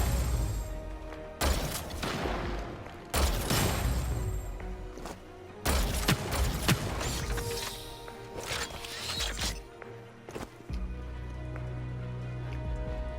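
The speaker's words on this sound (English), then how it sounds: "Here's the Komodo fire gun." Komodo fire gun in the game HyperScape, firing in several heavy booming bursts with crackling, rain-like spatter between them, interrupted by brief gaps and ending in a low rumble.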